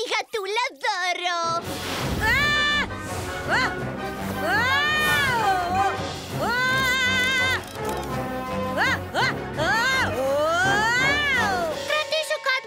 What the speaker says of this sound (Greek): Και έχω μια μικρή πτάμενη γατούλα δώρο!